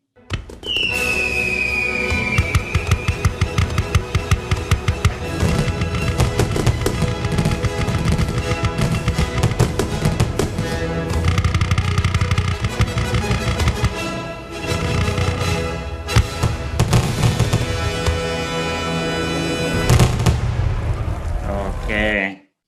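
Dense, continuous bangs and crackling bursts of fireworks, with a rising whistle early on, loud and sustained throughout, layered with a busy background.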